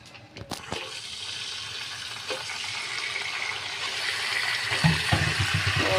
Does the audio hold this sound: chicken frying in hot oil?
yes